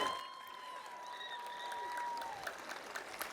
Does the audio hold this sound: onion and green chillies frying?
no